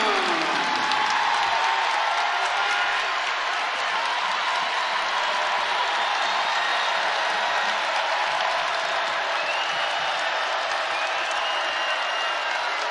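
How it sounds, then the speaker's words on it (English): Basketball arena crowd at an NCAA tournament game between Villanova and Michigan, sustained loud applause and cheering filling the space, a dense wash that tapers slightly but never stops. "this crowd is doing their best"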